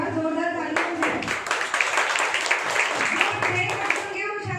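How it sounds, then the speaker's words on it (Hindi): Students clapping at a Teachers' Day school program, a burst of many hands in the middle, with talk heard before and after. "एक बार जोरदार तालियां हो जाए।"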